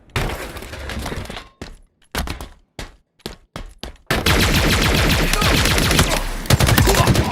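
Loud gunfire fills a Halo Team Slayer match, with bursts of rapid automatic fire broken by short gaps and then a long sustained volley.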